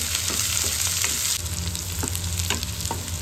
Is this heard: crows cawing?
no